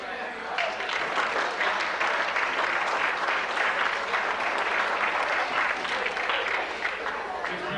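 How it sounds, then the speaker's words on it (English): A dense round of applause fills a room at a 1990 sports team banquet, many hands clapping steadily and loudly from start to finish with no speech rising above it. "all the guys over here owe their parents a big round of applause"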